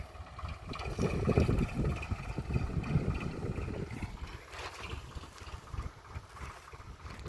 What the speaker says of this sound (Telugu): కరిగేట వేయడం అయితే పూర్తి అయింది ట్రాక్టర్ వెళ్ళిపోతుంది